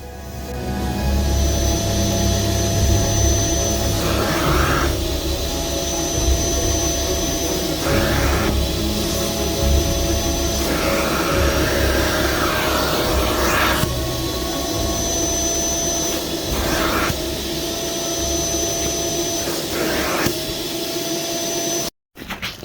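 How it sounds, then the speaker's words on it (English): A vacuum cleaner drones steadily and loudly while its nozzle passes over mouldy, dirty car seat upholstery in a cheap Fiat, with brief pitch shifts as the nozzle moves and a short cutoff near the end. "With every pass of the vacuum nozzle, you can literally see the transformation."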